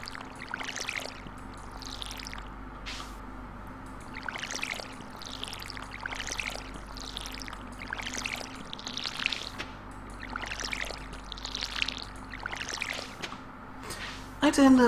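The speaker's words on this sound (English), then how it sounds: "that watering sound is really relaxing" A watering can in the video game Stardew Valley pours in repeated gentle splashing bursts, steady and rhythmic, with voices talking over it.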